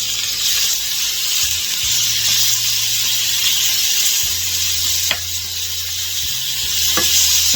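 Thin steak pieces sizzle steadily in a hot pan, a loud, close, continuous hiss with a few brief clicks of movement, no voices.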